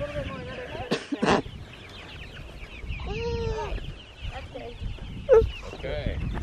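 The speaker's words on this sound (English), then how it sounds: "It's a chick. A meat bird. A Freedom Ranger?" A Freedom Ranger meat bird chick clucks and peeps in short bursts close by on a farm during chores, with people talking over and between the calls.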